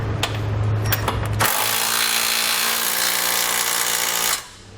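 A power tool spins trailer hitch hardware tight on a 2017 Chevrolet Traverse, starting with short bursts and then a loud continuous whir for about three seconds before stopping.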